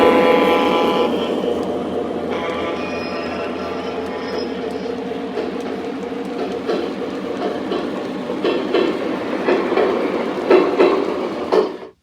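A model train runs on layout track at an open house, a steady low rolling rumble with light clicking that swells toward the end, with faint room noise behind.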